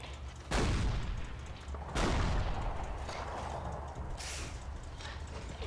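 Tanks fire in the wargame Combat Mission Red Thunder, with three heavy booming cannon blasts spaced a couple of seconds apart, each rolling into a long rumbling decay.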